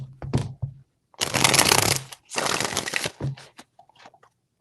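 A tarot deck being shuffled in two bursts of riffling, each about a second long, close and crisp, with a few soft taps and card handling sounds before and after.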